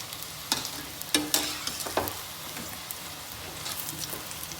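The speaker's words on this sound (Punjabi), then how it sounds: "ਆਪਾਂ ਇਹਨਾਂ ਦਾ ਪਾਸਾ ਪਲਟ ਦਿੰਨੇ ਆ ਦੇਖੋ ਜੀ ਗਰਮ ਤੇਲ" Bottle gourd kofta sizzling in hot oil with a soft continuous crackle, broken by a few sharp scraping clacks as pieces are turned.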